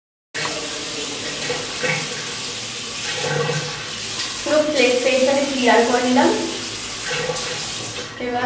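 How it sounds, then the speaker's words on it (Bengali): Face being rinsed with water over a sink, running tap water with splashing that rises and falls, close and fairly loud, with faint voice-like sounds mixed in. "তাহলে জল দিয়ে ধুই।"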